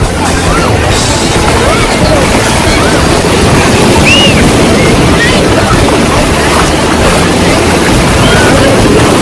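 Surf rolls steadily at a crowded swimming beach in Sam Son, Thanh Hoa. The wash is loud and continuous, with crowd murmur and wind mixed through it.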